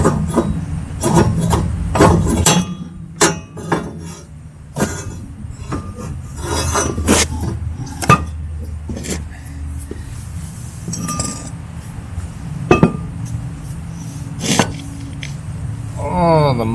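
Metallic clinks, ratcheting and wrench taps come from unbolting a control arm off a Dodge spindle, with irregular sharp close knocks and scraping spread across the stretch.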